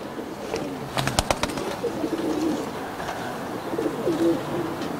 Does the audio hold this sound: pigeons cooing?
yes